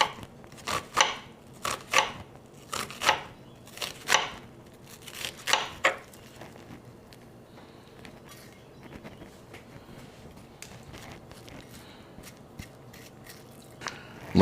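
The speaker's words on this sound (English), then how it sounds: "Give it a nice chop. Give me some good onion dices." A kitchen knife dices an onion on a cutting board with a quick run of sharp, close chopping knocks, then a quieter stretch of faint scraping and light taps.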